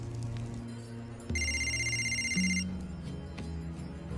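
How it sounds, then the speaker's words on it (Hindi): A telephone rings with a bright electronic trill lasting over a second, set against a low background hum and ambient noise. "आपका फोन है।"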